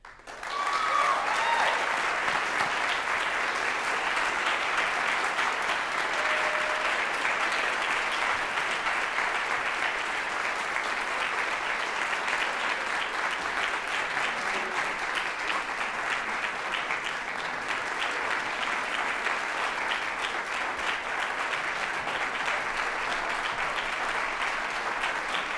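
Sustained audience applause at a conservatory student award ceremony, a dense, even wash of many hands clapping that starts abruptly and holds steady and loud for the whole stretch, with no speech over it.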